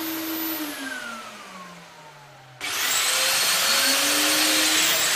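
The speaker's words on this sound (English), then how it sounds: "drill the first two holes" A Mafell DD40P dowel drilling machine's motor winds down, then a loud drilling whine kicks in abruptly and holds steady as the bit bores into wood.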